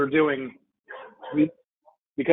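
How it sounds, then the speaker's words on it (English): A dog barks and whimpers a few times in short yips, close by, overlapping a person talking. "Oh, sorry, that's a dog."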